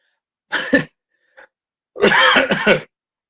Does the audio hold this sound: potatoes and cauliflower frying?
no